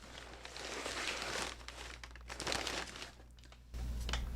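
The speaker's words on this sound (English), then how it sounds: "The paper in this is always very loud." Packing paper crinkling and rustling close by while a BoneBox from Skulls Unlimited is unboxed, with continuous crackly handling over a low steady hum.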